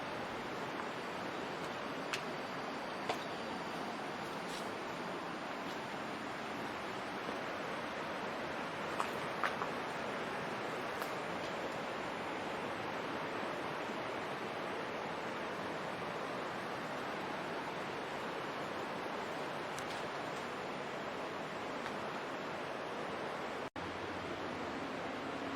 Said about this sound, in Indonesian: Tak jauh dari stasiun kita bisa melihat langsung Sungai Cisadane yang mengalir indah.